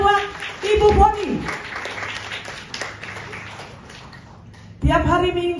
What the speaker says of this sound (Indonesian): Mana tepuk tangannya buat Ibu Foni?